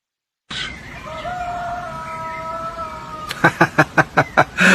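A rooster crows close by, a long drawn-out call with steady tonal harmonics lasting a few seconds, followed by a run of sharp, evenly spaced bursts.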